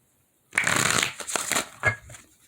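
Tarot cards being shuffled in quick riffling bursts, a close, crisp flutter that comes in two or three short runs with brief pauses, alone and fairly quiet.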